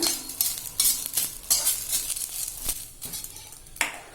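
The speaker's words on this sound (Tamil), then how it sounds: "இங்க பாருங்க, ஈரப்பசை போற அளவுக்கு கருவேப்பிலை வறுத்தாச்சு" Curry leaves dry-roasting in a pan for idli podi, a crackly rustling scrape as a spatula stirs them around, in short irregular bursts with dry crinkly pops and no talking.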